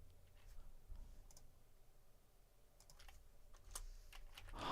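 A computer keyboard being typed on: quiet, irregular clusters of key clicks over a soft background hiss, with a louder burst of keystrokes near the end.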